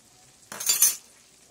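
A teaspoon of lemon juice hitting brown butter in a hot pan, a sudden sharp hiss that swells and fades within half a second against near silence.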